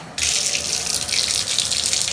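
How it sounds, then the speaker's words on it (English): Water turned on through a shower spout in a bathroom: a sudden burst starts a steady, loud hissing rush that keeps flowing evenly and close up, with no voices over it. "when we turn on the water"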